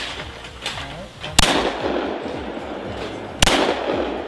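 Two sharp, loud shotgun reports roughly two seconds apart ring out at a clay pigeon shooting competition, each followed by a short echoing tail over quiet outdoor background.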